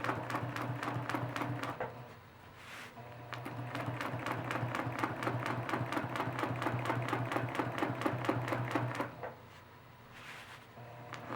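A sewing machine stitches a quilt in fast, steady runs of rapid needle strokes over a motor hum, pausing briefly near the start and again near the end before resuming.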